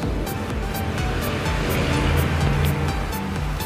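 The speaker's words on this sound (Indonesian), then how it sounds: "ini agak berisik karena depan rumah aku itu jalan raya ya" Traffic on a main road outside a house, a loud, continuous roar of passing vehicles that swells slightly with no clear pauses.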